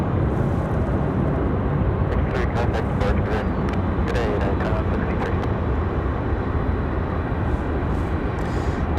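A United Airlines jet departing Raleigh Durham airport roars loud and continuous at close range, with crackling bursts in the middle and talk over it.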